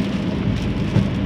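Steady, dense rain drums on a car during a drive, a continuous loud wash of patter with low rumbling underneath and no talking.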